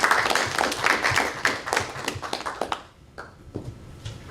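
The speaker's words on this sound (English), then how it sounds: "You can clap." A room of students claps at a student senate meeting, a brisk burst of mixed hand claps that thins out and fades into a few scattered claps near the end.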